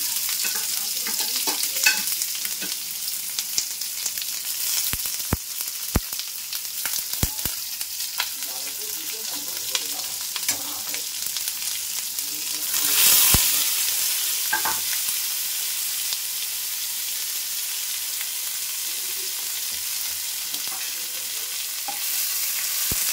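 Onion hits hot oil already spiced with cumin seeds and bay leaf, making a constant bright sizzle with sharp pops and spatula clicks scattered through it and a brief louder surge midway.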